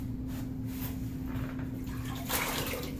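Water splashed and wiped onto a tile backer board on a bathroom wall, a steady wet washing hiss with a brief louder surge near the end.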